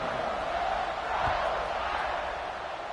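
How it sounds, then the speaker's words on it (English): A packed stadium crowd at a college football game keeps up a steady, broad buzzing roar after a score, continuous and moderately loud throughout with no clear voices rising above it. "this crowd is buzzing after that last score"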